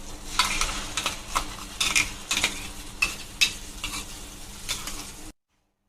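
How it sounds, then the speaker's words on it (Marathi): Masala fries in hot oil in a kadhai for methi matar bhaji while a spoon scrapes and stirs it, giving repeated bursts of sizzling and scraping strokes before it cuts off abruptly. "मसाला सगळा कढईमध्ये काढून घेतलाय मी. आता हा थोडासा 1-2-3 मिनिटं आपण भाजून घेऊया"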